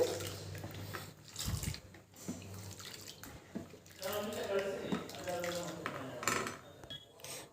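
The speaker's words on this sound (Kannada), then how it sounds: "ನಾನು ನೀರನ್ನ ಆ್ಯಡ್ ಮಾಡ್ತಾಯಿದ್ದೇನೆ" Water is poured into jowar flour in a bowl for dosa batter, giving a close, uneven splashing and trickling with occasional clinks of a utensil, while a person talks over parts of it.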